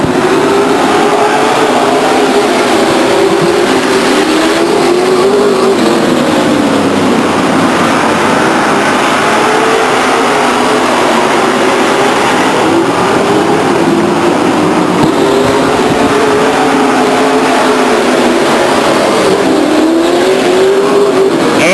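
A pack of race cars roars off at the green flag at Stockton 99 Speedway in 1999, with a loud, continuous engine drone that rises and falls steadily as the field accelerates.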